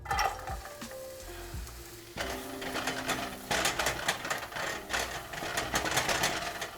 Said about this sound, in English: So I'm gonna add some onion here to the pan.